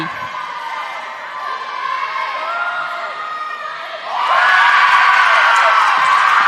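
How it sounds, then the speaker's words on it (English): A crowd at a Mountain East semifinal acrobatics meet between Glenville State and Frostburg State cheers and whoops for acrobat Taryn Colfinson, starting moderate, then swelling suddenly louder and sustained over the last couple of seconds. "Taryn Colfinson getting a very large round of applause"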